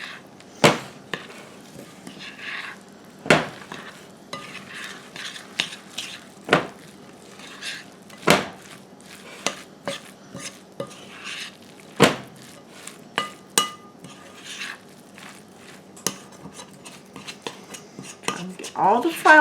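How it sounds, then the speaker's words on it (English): A spoon works flour into a cabbage patty mixture in a bowl, giving sharp clinks and scrapes against the bowl at an irregular rhythm, with a quieter stirring sound between the louder knocks and no talking. "Get all the flour mixed in."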